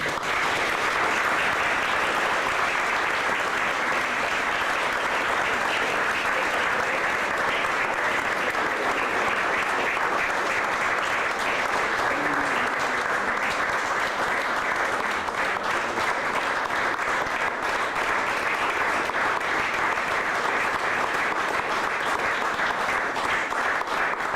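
Sustained, loud applause from the audience at a legislative session fills the whole stretch, steady and even without letting up.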